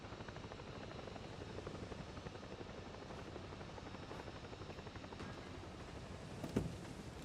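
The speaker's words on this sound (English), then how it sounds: "These helicopters are very fragile in this game." Helicopter rotor and engine drone from the video game Ghost Recon Breakpoint, a steady loud whir holding evenly throughout with a brief sharp knock near the end.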